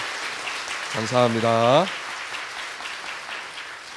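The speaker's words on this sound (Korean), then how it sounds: "박수 크게 한번 하겠습니다" Congregation applause fills a church New Year's Eve service: steady, moderately distant clapping throughout, with a brief spoken voice rising over it partway through.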